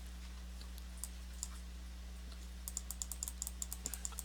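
A computer mouse clicks while sculpting in Sculptris, faint and sparse at first, then a quick run of sharp clicks near the end over a steady low electrical hum.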